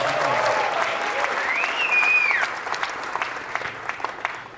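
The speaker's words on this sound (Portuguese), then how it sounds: "Mais aplausos para o Matheus Ceará" Audience applause at a comedy roast: a dense, moderately loud burst of clapping and crowd noise that thins out toward the end, with a voice briefly audible over it.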